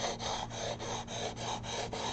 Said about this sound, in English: I'm kind of running my file, my sanding block, a little bit over the edge to kind of round off these edges